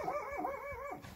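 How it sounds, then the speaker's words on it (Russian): A dog barks and yelps in a quick, rising and falling whining bark, moderately distant and fairly faint outdoors, with no talk over it. "Найда гавкает на Зинку"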